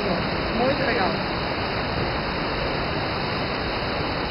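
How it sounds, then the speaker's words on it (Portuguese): The Eubiose waterfall at São Thomé das Letras roars as a loud, continuous broadband rush of falling water, close and unbroken, with faint voices briefly audible near the start. "a queda da cachoeira da Eubiose"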